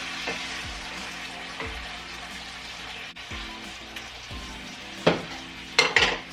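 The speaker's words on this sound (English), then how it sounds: "it's sizzling away" Soft, steady sizzling of chicken thighs frying in a pan, with occasional clinks of a utensil against cookware near the end.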